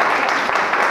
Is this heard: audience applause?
yes